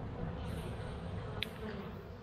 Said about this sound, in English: now I got bees all over the place